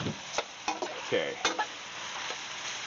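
Frying food sizzles steadily in a pan while loaded nachos are cooked, a close continuous hiss broken by a few stirring scrapes and clatters, with no talking.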